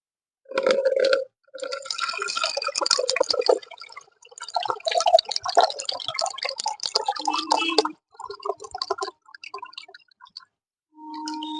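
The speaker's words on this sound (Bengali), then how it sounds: "এই যে আমি একটু জলটা নিয়ে নিলাম এক লিটারের মতো" Watery liquid fertilizer made from vegetable peels is poured in bursts, with gurgling and splashing, then trickles and drips, close by, with brief pauses and no talk.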